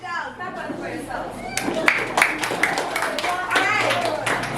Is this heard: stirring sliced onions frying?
no